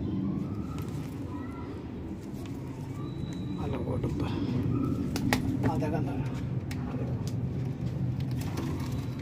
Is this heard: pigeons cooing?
yes